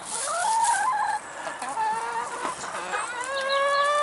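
Hens clucking and calling at a chicken coop on a garden allotment, close and fairly loud, with overlapping rising and falling calls from several birds over a steady outdoor background.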